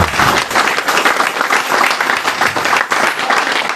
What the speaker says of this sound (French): je vous demande d'applaudir bien fort ce moment